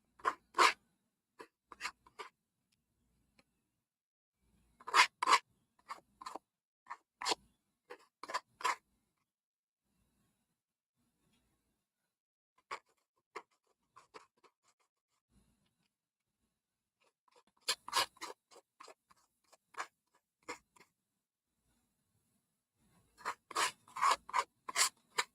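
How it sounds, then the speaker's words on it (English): Hand sanding of a miniature wooden suitcase side table, short close-up scratchy strokes in quick clusters separated by silent pauses. "Sand it."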